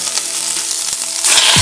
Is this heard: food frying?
yes